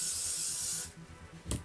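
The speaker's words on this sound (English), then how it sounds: "then just give it a quick spray." Hairspray from an aerosol can hissing in one long burst for nearly a second over a styled wig, followed by a short second puff, close and fairly soft.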